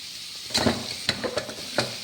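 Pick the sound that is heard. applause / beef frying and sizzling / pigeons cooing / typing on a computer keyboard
beef frying and sizzling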